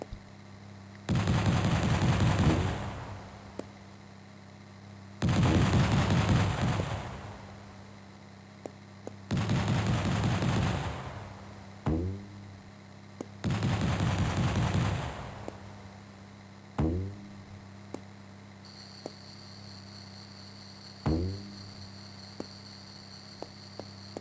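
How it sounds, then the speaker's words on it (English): Enemy gunfire in the DOS video game Little Big Adventure comes in repeated loud bursts of several seconds each, followed by single sharp shots, all over a steady electrical hum. "Stop shooting at me."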